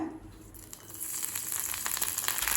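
Curry leaves dropped into hot oil in a kadai, a faint crackle that swells into a steady bright sizzle and spitting, growing louder over the few seconds.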